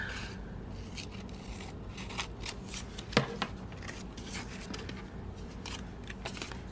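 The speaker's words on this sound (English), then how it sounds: "Let's cut this down just a little bit." Scissors cutting down a strip of paper while altering paper clips at a craft table, producing close, quiet snips and rustling with one sharper cut midway, no voices.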